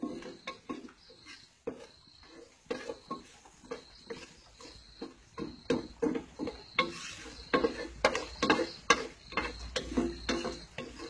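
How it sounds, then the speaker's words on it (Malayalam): A spoon scrapes and taps steadily in a pan as cardamom, cinnamon and cloves are stirred and roasted for chicken biryani, a close, regular clatter of metal on metal with no talking. "ഗ്രാമ്പും ഒക്കെ ചെറുതായിട്ടൊന്ന് ചുമക്കുന്നവരെ ഇളക്കി കൊടുക്കുക"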